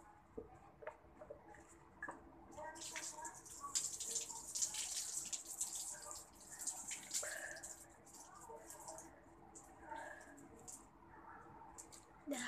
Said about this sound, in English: This video is just tipping water over my head.